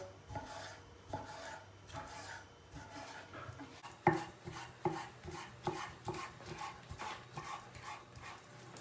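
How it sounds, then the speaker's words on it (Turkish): A knife chops chicken on a board in quick repeated strokes, a steady run of close dull thuds with some rasping scrapes. "Tavuklarımızı ince doğrayacağız."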